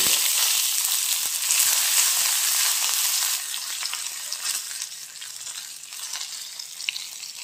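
Dried chilies fry in hot oil with a dense, steady sizzle and crackle close up, easing slightly after a few seconds.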